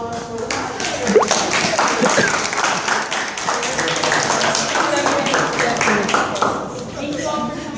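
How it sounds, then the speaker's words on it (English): An audience at a youth panel event breaks into a round of applause, a full, lively clatter of clapping with voices and cheering mixed in throughout. "And a nice round of applause for"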